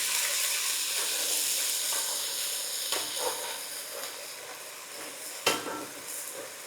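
Ginger garlic paste sizzles and fries in a pan for fish curry, a dense steady crackle with occasional scrapes and clinks of a stirring utensil against the pan, close and continuous.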